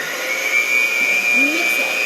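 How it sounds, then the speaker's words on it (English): An electric mixer whirs steadily in a bowl of chocolate mousse mixture, a close, loud, high motor whine with a faint voice underneath. "I'm gonna be mixing something. It might make a little bit of a loud noise."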